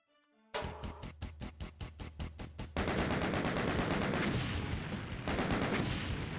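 Rapid gunfire from the 1993 DOOM video game: a quick burst of evenly spaced shots, then a dense, loud roar of continuous weapon fire and blasts lasting several seconds, with no talking.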